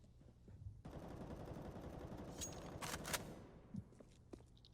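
A full magazine of rifle fire sprayed down the halls in a CS:GO match, a dense sustained burst of rapid shots lasting about three seconds, loud and close, with a couple of sharper bangs near the end.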